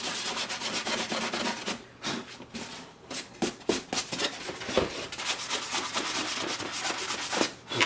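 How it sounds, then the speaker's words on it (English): Steady rubbing strokes of sandpaper on a Star Wars Sandtrooper helmet, close and loud, with a few brief pauses between passes and no talk. "I'm going to continue sanding on this this helmet until I get what I want."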